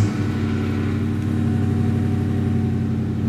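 A supercharged 4.6-litre V8 car engine fitted with a ProCharger runs steadily and loudly up close, a deep continuous drone with a rhythmic throb and no voices over it.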